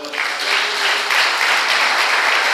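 A church congregation bursts into applause for a pastor invited to the front, a full, steady round of clapping sustained evenly throughout.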